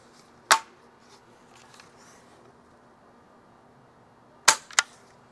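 A Barra Junior 1866 air rifle fires an 8 grain pellet. There is one sharp snap, then after a pause a second snap followed at once by a smaller crack. The rest of the room is quiet.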